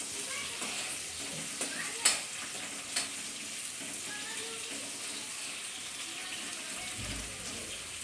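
Green chillies sizzle steadily in a hot pan for methi bhaji, a fenugreek leaf dish, with a constant frying hiss broken by a few light clinks and scrapes of stirring.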